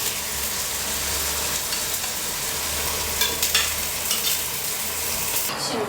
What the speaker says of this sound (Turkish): Ben şimdi artık etleri içine atıyorum.